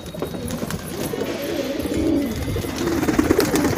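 Several pigeons coo in a low, continuous murmur while being bathed at home in the rain, with a steady wash of water or rain noise underneath and no talking.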